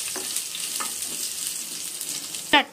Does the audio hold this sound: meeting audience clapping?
no